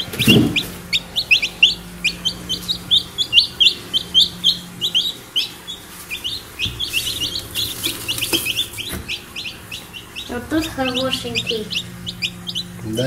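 Newly hatched chicks in an Ideal Hen (Идеальная наседка) incubator peep in rapid, high, repeated chirps. The many overlapping close calls continue with a low hum and faint background noise underneath.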